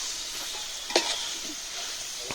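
Chicken frying in a large pot is stirred, giving a soft steady sizzle with one sharper clatter of the utensil near the middle.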